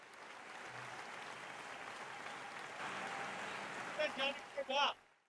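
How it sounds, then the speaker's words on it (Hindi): A whole hall of listeners at a Hindi comic poetry recital claps together in a soft, steady patter that holds for several seconds, then gives way to a few brief voiced sounds before cutting off. "एक बार पूरा सदन ताली बजाई है"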